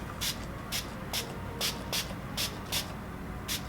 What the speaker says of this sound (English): Let's just spray some of this on.